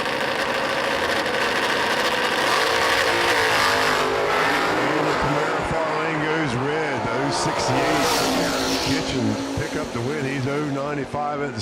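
A Camaro launching in the far lane at a drag strip during a Sunday anniversary race event, its engine roaring loud and continuous with revving surges, while an announcer talks over it.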